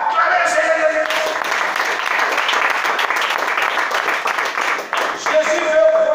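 A church congregation applauds and cheers throughout a service, a dense, sustained wash of clapping with crowd voices mixed in that stays loud and continuous from start to finish.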